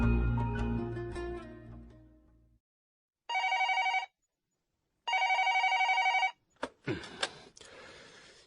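Electronic telephone ring in a Korean drama-documentary about a national infrastructure project: two steady, loud ring bursts about a second apart, preceded by low music that fades out, then brief clattering as the receiver is picked up.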